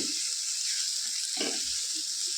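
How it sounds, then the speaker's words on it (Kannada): Masala and tomato for egg curry fry in oil in a pan, giving a steady, close hiss of sizzling with a few soft stirring knocks and no talking. "ಇದು ಎಣ್ಣೆ ಬಿಟ್ಕೊಳ್ಳೋವರೆಗೂ ಚೆನ್ನಾಗಿ ಫ್ರೈ ಮಾಡ್ಕೊಳ್ಳೋಣ"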